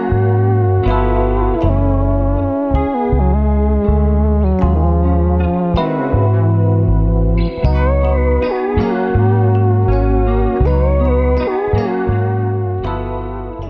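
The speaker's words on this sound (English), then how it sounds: "Melodic Loop 6 is laced with a chorused Fender Rhodes" A looping chorused Fender Rhodes electric piano with a lush, wavering effect plays warm chords over a deep bass line, loud and full throughout.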